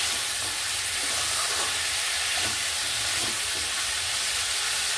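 Mixed vegetables frying in a pan with turmeric powder give off a loud, even sizzle and hiss that holds steady throughout, close up and with no one speaking.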